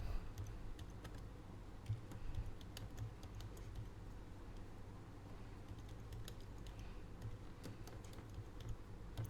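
Typing on a computer keyboard while entering day names into an Excel spreadsheet, a soft, steady patter of key clicks and taps that runs without a break and sits close but faint, with no talking.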